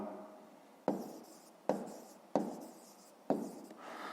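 A pen writes by hand on paper while solving a fifth-grade maths exercise, soft scratchy strokes in four distinct bursts, each starting sharply and fading, fairly quiet and close.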